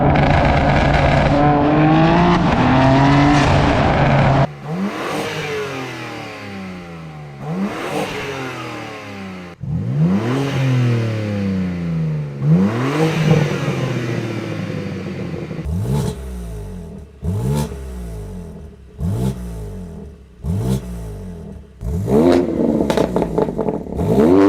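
A BMW G82 M4 fitted with a Miltech catback exhaust revs hard again and again, loud rising engine sweeps giving way to a quick string of sharp blips and crackles near the end.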